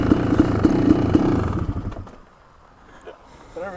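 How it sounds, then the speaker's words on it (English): Kawasaki KX500 two-stroke and KX450F four-stroke dirt bikes in a drag race roar loudly and close for about two seconds, then the engine noise drops away to a faint background, with a brief voice near the end. "I couldn't hear my own bike because of how freaking loud his bike is."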